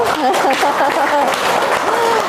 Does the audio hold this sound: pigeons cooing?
no